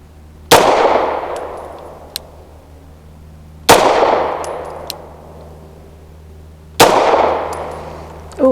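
Three loud pistol shots from a Tisas B9R 1911 fired at a paper target, spaced roughly three seconds apart, each with a sharp crack and a lingering echoing tail over a low steady hum.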